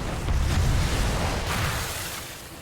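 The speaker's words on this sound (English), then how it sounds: "Explosions going off everywhere." Explosions rumble through a World of Warcraft: Dragonflight zone in the Azure Span, a dense, continuous low booming wash that swells early and fades slightly, with no speech over it.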